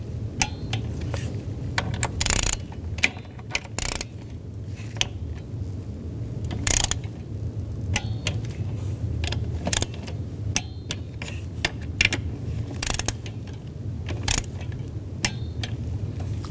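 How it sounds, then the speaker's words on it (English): Torque wrench tightening intake manifold bolts on a 2010-16 Buick LaCrosse to 89 inch-pounds, heard as scattered sharp metallic clicks and clinks of tool on metal, close up, with no talking. "Now we're going to torque these to 89 inch-pounds."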